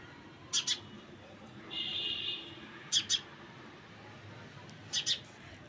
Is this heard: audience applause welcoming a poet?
no